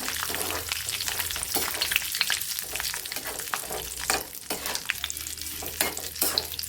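Curry leaves frying in hot oil for a mango pickle crackle and sizzle intensely up close, with a dense run of sharp pops over a low steady hum. A voice speaks very briefly.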